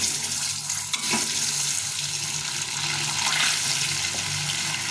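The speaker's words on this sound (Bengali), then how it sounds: "তেলটা গরম হয়ে গেছে এখন ডিমগুলো" Duck eggs frying in hot oil in a heated wok, a steady broadband crackling sizzle that holds constant throughout, close and fairly loud with no talk.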